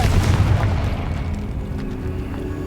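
A Confringo spell explosion in Hogwarts Legacy, a loud deep boom right at the start that rolls off into a rumbling decay over a couple of seconds.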